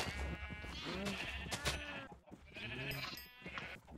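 Colorful sheep in the video game Minecraft bleat twice, two wavering cries a little apart, fairly close over faint background sound.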